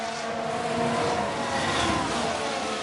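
Formula 1 race cars in F1 Manager 23 on the Baku street circuit, a sustained high-pitched engine whine from cars running side by side through the castle section, loud and steady throughout.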